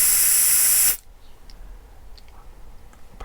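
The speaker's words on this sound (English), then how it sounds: "take my air compressor and blow through the back end of it real quick" A loud burst of compressed air from an air compressor hisses through a Honda carburetor jet, then cuts off sharply, leaving faint clicks and room noise.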